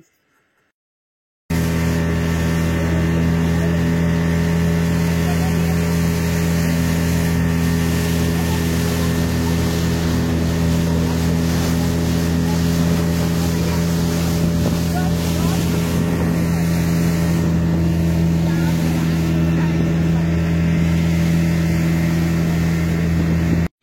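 A speedboat heading to the limestone cave at Baratang Island in the Andaman Islands runs at steady speed. Its engine gives a loud, constant drone, mixed with wind buffeting the microphone, for the whole ride after a brief quiet start.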